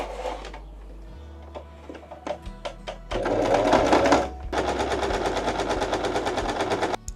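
A sewing machine runs a small zigzag stitch right along a fabric seam edge, starting with short stop-start bursts and then settling into steady, loud continuous stitching close by.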